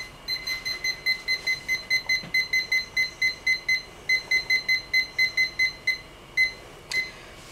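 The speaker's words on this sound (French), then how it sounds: "Donc maintenant je vais mettre mon minuteur." A kitchen timer set while a tuna flan bakes in the oven: a steady run of short, evenly spaced high beeps, about two per second, close and clear, with no talk.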